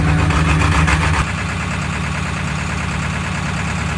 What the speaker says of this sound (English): Let's go up to high idle.